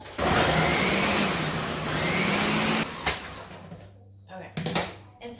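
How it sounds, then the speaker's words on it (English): A blender whirring loudly as it purées roasted chiles into salsa roja, a steady high-pitched motor roar for about three seconds before cutting off, followed by clunks and handling noises. "And we're gonna blend it."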